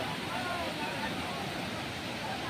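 Lake water spills over a weir after a night of rain, making a steady, dense rush of flowing water that stays constant and fairly near throughout.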